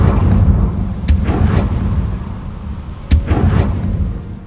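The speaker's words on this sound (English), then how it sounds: "Confringo!" Confringo explosion spell cast in Hogwarts Legacy in an overgrown garden setting: two sharp, loud blasts about two seconds apart, each a bright crack with a trailing rumble, over steady low background ambience.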